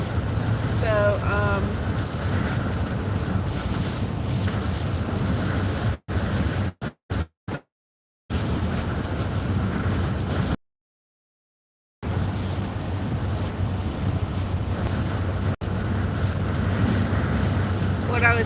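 Strong wind gusts roar and buffet the microphone during storm chasing on a road, a loud steady rush with brief dropouts, while people talk intermittently over it.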